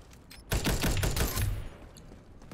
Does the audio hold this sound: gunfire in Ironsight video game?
yes